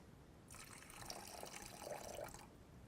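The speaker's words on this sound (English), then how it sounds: "if I take this particular bottle of water and I pour some water here initially" Water poured from a bottle into a container, a soft, steady splashing trickle lasting about two seconds, faint and close with no talk.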